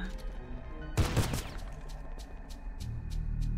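Enemy gunfire in the video game Doomsday Hunters: a burst of sharp shots followed by a series of quick, evenly spaced lighter pops over a steady game music bed.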